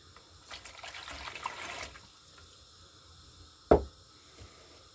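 Water pours briefly for belyashi dough, a soft close splash and trickle lasting about two seconds, followed later by a single sharp knock, with no talking.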